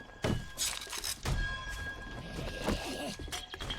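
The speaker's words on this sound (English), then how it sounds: "That noise that you're hearing when they're hitting stuff, that just means that they can't destroy it." Zombies in the video game 7 Days to Die strike indestructible blocks, making a series of dull, heavy thunks and knocks with a crunchy edge, repeating irregularly over a low background rumble.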